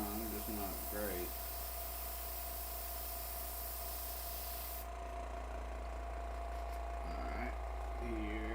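An airbrush sprays paint for weathering an HO scale model building, a steady hiss that briefly drops off midway, with a person talking in the first second and near the end.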